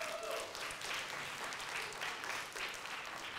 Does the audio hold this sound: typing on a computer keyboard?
no